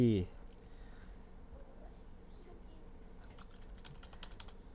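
Keys clack on a computer keyboard, with a short run of quick, light taps near the end after a brief low sound at the start. The typing is faint and close in a quiet room.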